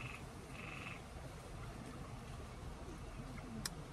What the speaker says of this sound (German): hört ihr den Frosch?